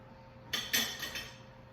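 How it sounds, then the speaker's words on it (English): A few light metallic clinks of kitchen utensils as a spoon is picked out from among them in a home kitchen, four quick taps over about a second against quiet surroundings. "Let me grab a spoon."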